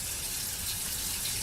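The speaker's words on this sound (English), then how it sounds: "First, I'll fill up the tap water directly out of the tap." Tap water running straight from a kitchen faucet into a container, a steady loud gushing hiss, close and continuous with no talk.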